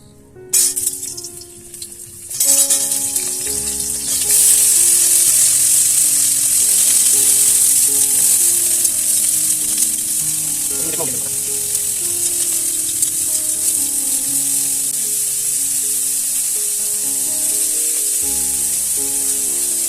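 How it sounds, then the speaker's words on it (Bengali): Fried potatoes and cauliflower for bhuna khichdi sizzle loudly and continuously in oil, with occasional stirring scrapes and steady tonal background music underneath. "আলুটি মোটামুটি একদম বাদামি হয়ে ভাজা হয়ে গেছে। এখন দেবো কফি দি, ফুলকপি দি।"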